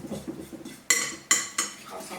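A utensil stirs erythritol and salt together in a bowl for keto Oreo-style cookies, making soft scraping and a few sharp clinks against the bowl's side, close up.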